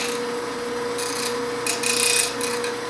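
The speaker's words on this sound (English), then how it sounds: "present it to the front of the wheel and just roll off the side" A blade is held to the front of a sharpening wheel and rolled off the side, giving a close, steady grinding rasp over a constant motor hum, with brief brighter scraping bursts.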